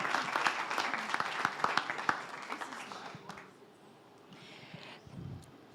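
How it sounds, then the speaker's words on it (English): Audience applause at a health-tech investor summit as a panelist walks on stage, a dense burst of clapping that fades after a few seconds, with a voice and faint crowd murmur continuing beneath. "A round of applause as Peace comes to the stage."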